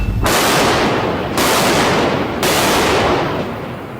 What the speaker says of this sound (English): Number 1, left and right guns loaded. Shoot!